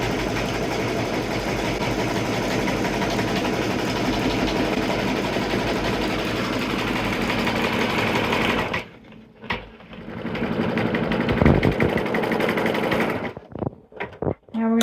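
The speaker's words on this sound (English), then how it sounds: "now it's going to stitch out our halos" An embroidery machine stitches halos in gold metallic thread for a Kimberbell Nativity bench pillow in a 5x7 hoop. It gives a loud, steady rapid whir, stops abruptly, then resumes in uneven bursts with brief pauses.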